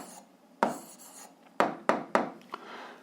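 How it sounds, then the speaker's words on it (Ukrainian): A pen writes an answer by hand on paper for a seventh-grade algebra exercise. Several short, distinct scratchy strokes come in quick bursts, close and clear, with quiet pauses between them and no talking. "Записуємо відповідь, пишемо відповідь."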